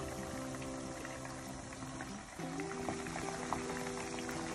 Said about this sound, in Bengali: চিকেন উইংসগুলোকে হাই ফ্লেমেই ভাজতে হবে